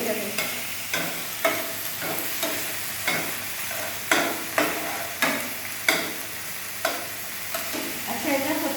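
Chicken frying over high heat in a pan, a steady sizzle broken by repeated scraping stirs that come in uneven strokes, close and fairly quiet, with no talking.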